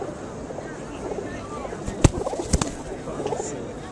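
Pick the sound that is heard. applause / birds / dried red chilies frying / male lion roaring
birds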